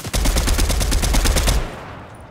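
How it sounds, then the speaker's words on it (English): Gunfire in the Fortnite video game, a rapid burst of loud automatic shots in quick even rhythm for about a second and a half, then cutting off abruptly. "He's shooting me."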